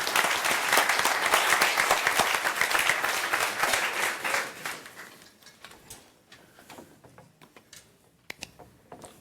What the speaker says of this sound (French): Donc, on applaudit Raphaël, s'il vous plaît.